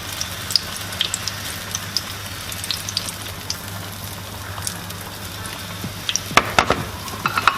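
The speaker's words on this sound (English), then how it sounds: "While that one is frying, go ahead and do the same thing for another egg ball." Guyanese egg balls frying in hot oil, a steady sizzle with scattered pops and crackles and a low hum underneath.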